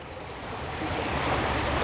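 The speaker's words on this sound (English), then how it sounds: "If you can hear the water, it's running right now." Running creek water on a disc golf course, a continuous broadband rushing wash that swells slightly over two seconds, heard alone without speech and mixed with some wind noise.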